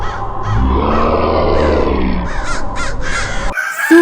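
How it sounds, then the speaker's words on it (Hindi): A crow caws repeatedly and loudly at close range in a forest, its harsh calls coming in a quick irregular series over a low rumbling background that cuts off abruptly near the end. "कालू कौआ जंगल के सभी पक्षियों को रात की पूरी कहानी बताने लगता है"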